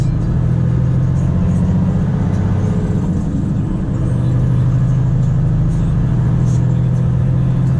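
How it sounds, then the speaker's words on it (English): Volvo FM 460 truck pulling a trailer on a snowy road, its engine at full throttle in manual mode: a loud, steady, deep diesel drone that holds strong and close throughout. "Pop it into manual, flooring it."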